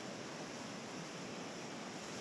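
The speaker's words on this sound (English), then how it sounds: "The ocean's rolling the way I want to." Ocean surf rolls steadily against the south jetty at the mouth of the Columbia River in Oregon, a continuous broad wash of breaking waves with wind buffeting the microphone.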